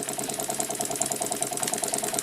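Bassett-Lowke model steam engine from around 1900, heated by a homemade Mamod-type burner and leaking steam around the cylinder, chuffing in a quick, steady rhythmic beat, close and continuous with no talking.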